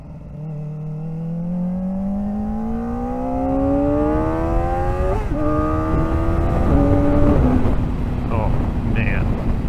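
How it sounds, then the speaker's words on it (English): Motorcycle engine revving up steeply while shifting manually, pitch climbing then jumping at each gear change, loud and close with wind noise behind. "you can see I over-revved that manual shift"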